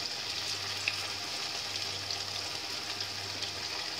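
Cauliflower Manchurian with green chilli frying in hot oil, a steady close crackling sizzle with scattered pops and a low hum running underneath throughout.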